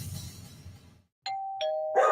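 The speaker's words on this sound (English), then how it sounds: "It's another roof gypsy ringing the doorbell." Doorbell ringing on a radio broadcast: a soft noisy passage fades out, then after a brief silence come two clear chime tones, followed by a louder burst.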